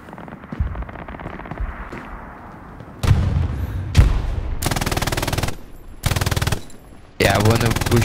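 Gunfire in the World War II game Hell Let Loose, with a gun firing from under a building's floor: rapid machine-gun bursts start off, loud and close, after quieter distant shots and muffled background battle.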